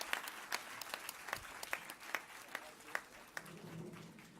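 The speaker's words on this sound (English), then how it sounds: "please give a huge round of applause for such an inspiring personage" An audience applauds at a national seminar on women's rights, a soft, distant patter of scattered claps running steadily throughout, with sharper individual claps popping out now and then.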